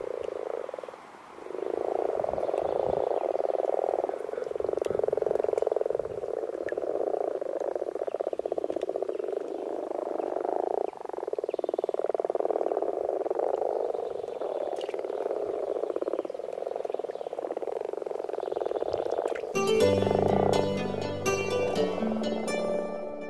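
Frogs croaking in a small marshland among cliffs, a dense continuous chorus of low croaks at moderate distance, steady throughout before a brief musical passage enters near the end.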